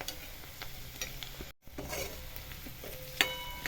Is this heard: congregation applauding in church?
no